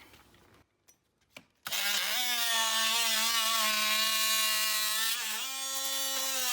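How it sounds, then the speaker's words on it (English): A buzzsaw spins up after a few faint knocks and makes a plunge cut in wood, holding a loud, steady, high whine that dips slightly in pitch under load near the end, with no talk. "We've used the buzzsaw to make a plunge cut here and here"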